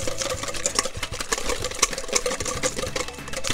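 Whole egg being whisked with sugar for a cake batter, a steady busy scraping and rattling texture that runs continuously at moderate loudness with no voices.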